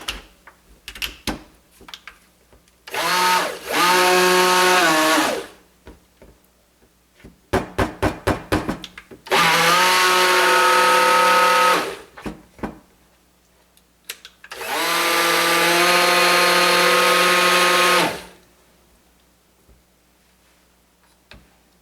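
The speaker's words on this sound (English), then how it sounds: "quick spurts with the stick blender" A stick blender mixing soap batter runs in three sustained, loud bursts of a few seconds each, with clicks and clattering handling noises in the pauses between them.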